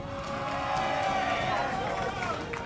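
Spectators at a Guilty Gear Strive tournament top-eight event cheer and shout as one broad, sustained roar, loud and steady throughout, with voices mixed into the din.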